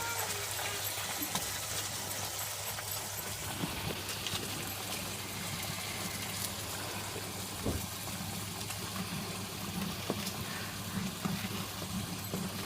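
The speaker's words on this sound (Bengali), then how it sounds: "চিকেনগুলো ভেজে নেব লাল লাল করে" Chicken pieces for biryani frying in hot oil until reddish-brown, giving a quiet, continuous crackling sizzle with a faint watery bubbling, close by and free of talk.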